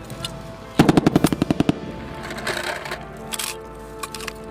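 Rapid bursts of gunfire at a military shooting range, a tight string of about ten loud shots followed by scattered quieter reports and distant echoes.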